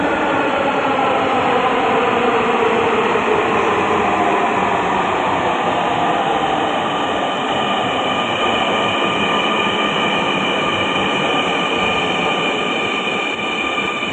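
A Dhaka metro rail train in motion, a loud steady rushing hum with a high, even whine from the wheels and motors that holds for the whole stretch, without any talking.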